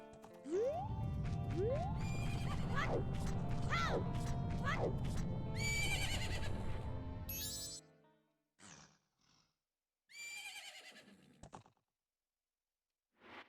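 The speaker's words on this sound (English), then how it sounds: "Yes, that's my horse." A loud horse whinny in The Legend of Zelda: Majora's Mask, with rising and falling squeals over a rumbling bed, followed by short bursts of sound and a second neigh after a pause.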